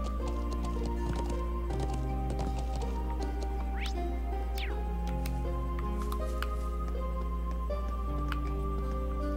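Horse hooves clip-clop in a steady trotting rhythm in the video game Trails of Cold Steel, moderately close, over a layer of game music.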